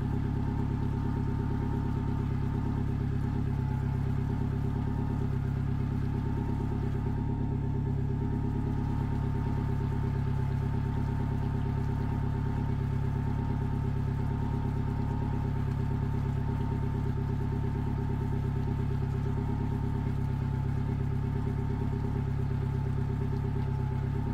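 A Yamaha F150 outboard motor runs steadily at idle for the whole stretch, a continuous mechanical hum with a faint clatter, close and even, with no talking.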